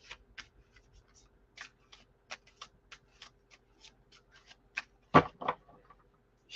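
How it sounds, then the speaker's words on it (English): Cards are overhand shuffled by hand in quick, light slaps and riffling taps, irregular and close, ending with a couple of louder snaps. "So I'm going to have to overhand shuffle for a second."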